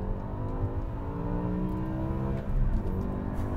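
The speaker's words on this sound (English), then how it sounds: "Get into the throttle." A 2006 BMW M6 with a 500-horsepower V10 engine accelerating hard up an on-ramp, heard from inside as a loud, steady rising engine drone that swells briefly near the end, with no talk.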